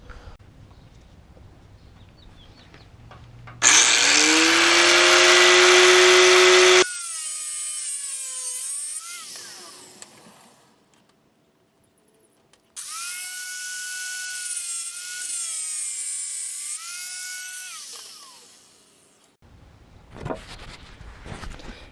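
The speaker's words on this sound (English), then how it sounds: "gonna cut a couple of caps for the end here and the top of the thing" A power tool cuts steel end caps for a metal hose holder in two loud, sustained bursts of high, ringing whine, separated by a quieter pause with lighter clatter.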